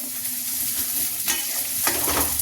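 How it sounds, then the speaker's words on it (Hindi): Garlic sizzles in hot oil with a steady crackling hiss, broken by two stirring scrapes of a spoon in the pan, heard up close. "ये देखिए अभी लहसुन भुन जाता है"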